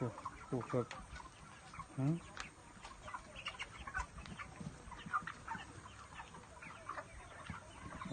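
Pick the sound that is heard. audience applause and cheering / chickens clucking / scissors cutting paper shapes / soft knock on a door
chickens clucking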